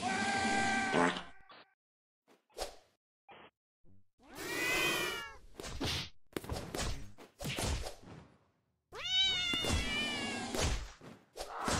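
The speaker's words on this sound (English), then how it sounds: "I feel like some cats would improve it." Cats meowing in the video game Goonstation, several loud drawn-out meows and yowls, some rising and wavering, in bursts separated by short gaps and a few thumps, close and prominent with no talk.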